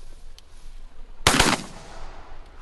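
A single loud, sharp shotgun blast while duck hunting in Canada, rising abruptly out of quiet outdoor ambience and fading in a short open-air tail.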